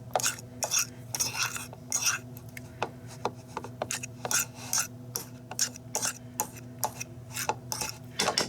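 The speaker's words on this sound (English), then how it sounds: "I just take this and mash it up with my fork and try to get all the big pieces mashed up" A fork mashing and scraping through cooked food in a bowl for a holiday side dish, with repeated rhythmic rasping strokes and clinks of metal on dish, close up and fairly quiet.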